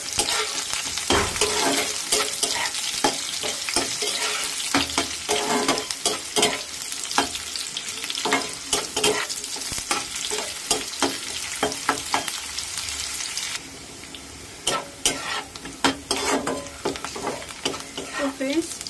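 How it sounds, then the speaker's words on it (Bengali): Chopped onions hiss and crackle loudly in hot oil already fried with spices, with a steady sizzle broken by sharp pops and the clatter of stirring, close and continuous throughout, easing slightly toward the end. "এখন আমি ওই তেলেই দিয়ে দেবো কুচিয়ে রাখা পেঁয়াজ"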